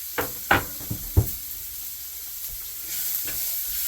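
A spoon stirs roughly chopped onions and jalapenos in a hot pan, with several sharp scraping knocks early on before an even, hissing sizzle takes over.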